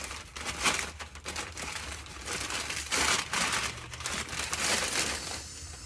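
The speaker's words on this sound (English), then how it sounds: "A lot of individual parts I need to unwrap here." Plastic packaging crinkling and tearing as parts of an Ashford electric spinner are unwrapped, a steady run of close rustling and crackling bursts with brief pauses between.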